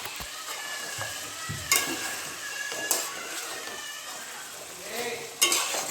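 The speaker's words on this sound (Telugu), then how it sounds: "చికెన్కి పట్టేంత వరకు అలా కదుపుతూ ఉండాలి అడుగు పట్టకుండా చూసుకోవాలండి" Chicken frying with turmeric in a heavy, thick-bottomed pan makes a continuous sizzle, with a spatula scraping and stirring and a few louder clanks against the pan.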